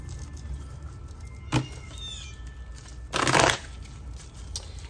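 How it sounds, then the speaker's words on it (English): Oracle cards being shuffled during a pick-a-card reading, heard as a brief riffle around the middle and a louder, longer burst of shuffling later, over a quiet room with a faint steady hum. "let's go ahead and shuffle the cards"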